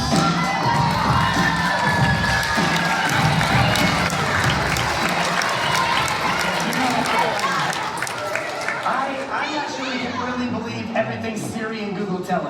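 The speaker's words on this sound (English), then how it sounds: "receive your well-deserved round of applause" A crowd at a basketball ceremony cheers, shouts and applauds loudly after a magic act's finale, with children's excited voices rising through a dense, sustained roar of clapping that eases slightly toward the end.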